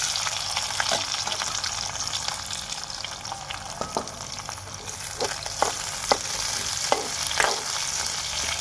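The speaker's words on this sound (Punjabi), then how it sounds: "ਹੁਣ ਆਪਾਂ ਗੰਢਾ ਪਾਵਾਂਗੇ।" Onion fries in a pan with a constant close sizzle, punctuated by sharp intermittent clicks of a spatula stirring.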